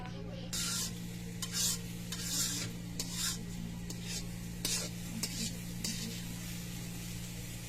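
Semai vermicelli fries in ghee over medium-high heat, a soft steady sizzle broken by repeated rhythmic scraping strokes of a stirring spoon against the pan, fairly quiet and close.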